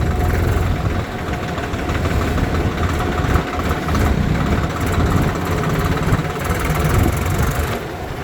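A new-model Swaraj tractor engine runs steadily at idle, a loud, continuous low diesel rumble with a faint knocking texture throughout, close by and without speech.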